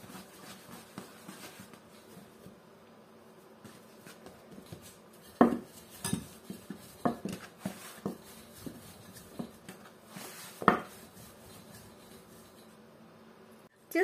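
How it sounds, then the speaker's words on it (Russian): Pie dough for a Tatar apple pie being rolled out, heard as faint rubbing with a few sharp knocks and clatters of the rolling pin against the board, with no talking. "Нижнюю часть раскатаем."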